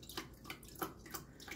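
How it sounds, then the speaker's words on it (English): Water from a water softener system pours into a bucket, a soft splashing and gurgling stream with rhythmic surges, fairly quiet and close with no voices. "Directing the water right into the bucket."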